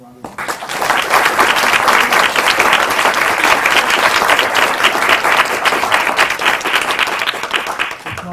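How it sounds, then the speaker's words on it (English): Sustained applause from an audience in a university lecture room, dense clapping rising quickly and holding steady at close range for several seconds, with faint voices mixed beneath. "Professor Hassan, can we give another round of applause?"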